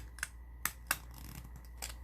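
A few sharp, separate snips, like scissors cutting paper, spaced irregularly over a low steady hum.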